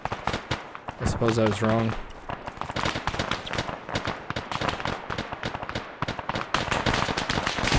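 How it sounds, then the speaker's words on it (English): Gunfire in the Arma 3 military shooter during a war scenario, sharp shots and bursts scattered through the clip from a shooter off to the right with tracer fire, mixed with game music and someone talking over it. "Oh, I'm taking some fire from this guy"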